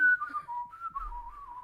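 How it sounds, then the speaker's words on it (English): Someone whistles a quick riff of sliding, wavering notes, clear and close, in one short phrase with no talk over it. "Oh my gosh, it's like riff whistling."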